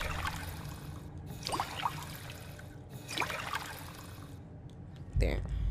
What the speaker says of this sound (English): Now we'll be filling with purified water.